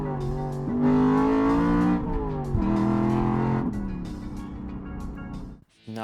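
A car engine revving hard during a heel-and-toe double-clutch downshift, loud and close, pitch jumping up with sharp blips and dropping between gear changes before cutting off near the end.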